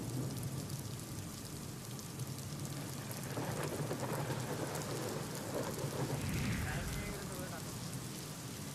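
A spring storm over Akkalkot: steady heavy rain hisses on surfaces while a low rumble of thunder rolls through, with a faint voice underneath.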